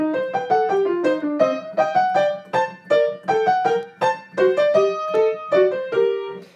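Piano plays an interweaving contrapuntal passage from Bach's Fugue No. 2 in C Minor, quick, detached notes in two overlapping lines, clear and close, with no talking.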